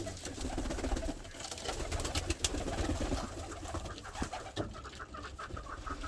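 Several blue tumbler pigeons coo steadily and close by at a village loft, their soft throaty calls overlapping throughout with no talking.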